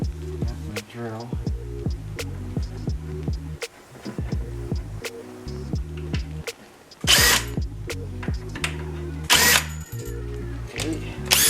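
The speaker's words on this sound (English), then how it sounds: "My drill." A power drill whirs in short bursts while building log cabinets, its motor pitch rising and falling between pauses, with a couple of sharp loud hissing blasts near the end.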